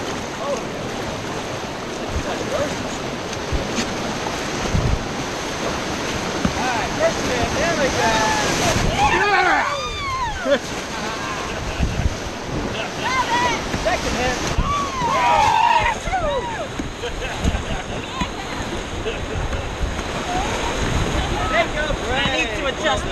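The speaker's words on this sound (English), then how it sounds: "this is a really fun rapid. Nice big waves on." River rapid on the French Broad during a rafting trip, with rushing, churning whitewater and big waves crashing steadily around the raft, wind buffeting the microphone and people's voices mixed in.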